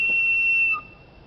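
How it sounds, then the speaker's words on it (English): A single whistle blast at night in Leicester, a steady shrill tone held for under a second before stopping abruptly against faint background noise. "And then there was a whistle blown."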